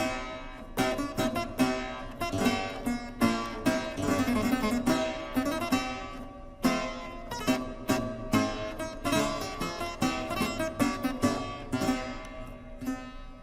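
A historical plucked string keyboard instrument with a freely resonating soundboard plays a lively passage of bright, rapid notes with crisp attacks, heard alone and close.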